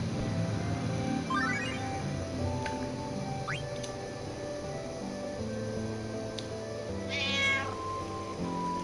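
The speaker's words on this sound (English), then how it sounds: "Oh, there's a cat." A cat meows several times in the video game Final Fantasy IX, clear against a busy bed of game music and ambience, with squeaky rising calls scattered through the scene.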